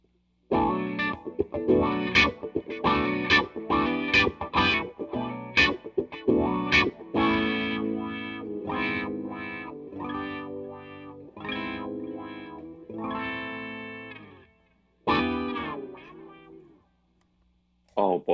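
An electric guitar riffs through a wah pedal, plucked notes swelling and sweeping with a wobbling, filtered tone, then a short pause and a final chord.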